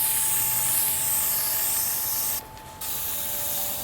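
Aerosol waterproof coating sprayed in a steady, close hiss onto a watercolor painting, running continuously with one brief break partway through before resuming.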